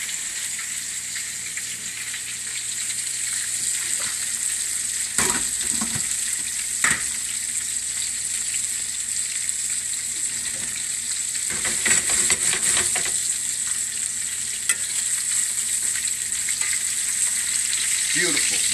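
Cutlets fry in a hot pan with a constant bright sizzle, broken by several short bursts of louder crackling and scraping as they are moved, with no talking.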